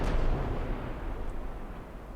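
Heavy naval gunfire from battleships' twin 16-inch guns in the Ultimate Admiral Dreadnoughts video game, a deep rolling boom that fades into a sustained rumble.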